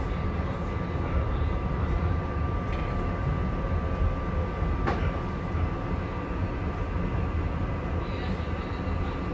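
A SEPTA Silverliner V commuter train pulls into Glenside station in Pennsylvania with a steady, loud rumble of wheels and motors. A faint squeal cuts in near the middle and the noise holds even throughout.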